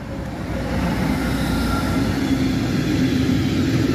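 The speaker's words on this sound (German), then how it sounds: "Und hier kommt schon der nächste Güterzug." A DB Cargo class 187 electric locomotive hauls a mixed freight train past a station, a steady loud low rumble of rolling wagons and clattering wheels close by, with faint squeal overtones.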